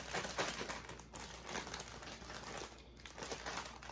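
A plastic zip bag holding crappie fish and breading is shaken, giving a steady, quiet crinkling rustle that continues without a break.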